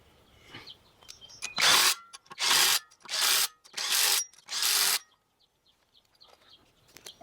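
Ratchet or impact tool spinning lug nuts to mount a wheel back onto a 2019 Subaru Outback after a brake job, five loud, evenly spaced mechanical bursts close up, with quiet clicks and handling noises between.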